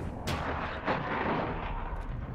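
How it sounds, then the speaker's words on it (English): Mortar fire in Call of Duty: Modern Warfare II, a loud continuous barrage of booming blasts and rumbling impacts filling the scene, with a sharp crack near the start. "Mortar support incoming!"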